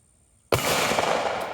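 A single sharp, loud Glock pistol shot cracks out of near silence, followed by a ringing, echoing decay.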